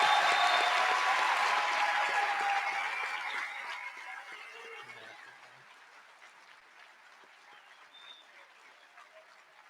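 Applause from the audience at a medical school white coat ceremony for the graduating class, loud at first and then fading gradually to a thin scattering of claps by the end.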